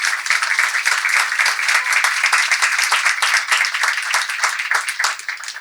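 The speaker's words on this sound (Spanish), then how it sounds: "Para todos estos trabajadores de la cultura, un fuerte aplauso." An audience applauds at the opening of a literary festival in a cultural centre, dense sustained clapping from many hands, steady and close, with no talk over it.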